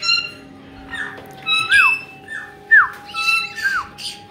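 Pet birds named Spiky Bird, Nigel, Sunny and Marley let out a string of close, sharp squawks and whistles, about six bursts in quick, uneven succession indoors.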